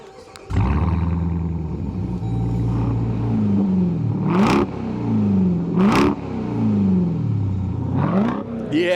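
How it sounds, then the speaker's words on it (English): A 2026 Dodge Durango Jailbreak V8 fires up with a loud, close rumbling idle, then blips its throttle in three sharp revs that rise and fall in quick succession, with no talk over it. "I need a rev. So let's start this thing up and see what she's got."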